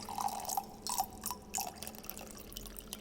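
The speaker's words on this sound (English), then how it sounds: "first we have to pour water in a constant reservoir" Water poured into a constant-level reservoir of a Poiseuille viscosity apparatus in a lab, heard as faint, irregular drips and small splashes over a quiet room hum, with no voices.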